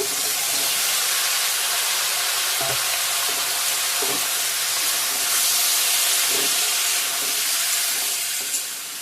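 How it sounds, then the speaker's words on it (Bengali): Radish, taro, eggplant and potato pieces sizzle in hot oil, a steady loud hiss with occasional crackles and soft stirring knocks throughout. "সবজিটা দিয়ে দিলাম মূলা কচু বেগুন আলু একখানে"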